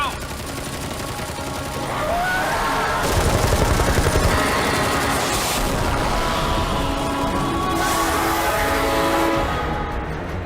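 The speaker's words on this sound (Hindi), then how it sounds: "गोलियां चलाते रहो।" Rapid bursts of automatic gunfire crackle through a dubbed movie battle scene, sustained volleys with brief pauses, loud and close, layered with shouted voices and a whining overhead sound.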